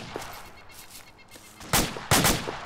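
Gunfire in the military video game Arma 2 begins with a faint crackle in the background, then two loud, sharp shots ring out close by, each trailing off in a short echo.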